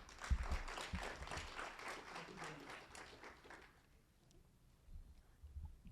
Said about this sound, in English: Can everyone give him a round of applause?